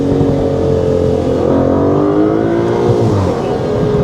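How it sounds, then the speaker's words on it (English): Aston Martin DBS Ultimate 770 with its 770-horsepower engine driving the rear wheels, held at full throttle from inside the car: a loud, steady, rising engine roar with harmonic tones climbing in pitch, continuous and close. "Full throttle now. Oh! Whoa, 770 horsepower going to the rear wheels."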